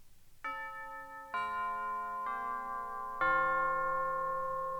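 Four struck clock chime tones ring out one after another, each bright bell note sustaining and overlapping the next, marking the quarter hour clearly and alone.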